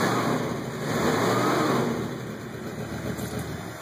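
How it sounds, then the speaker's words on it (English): A Winnebago motorhome engine runs nearby, idling with a low rumble that swells briefly as it revs, then settles back down. "Engine still purrs."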